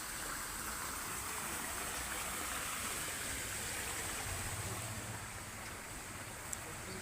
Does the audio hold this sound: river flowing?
yes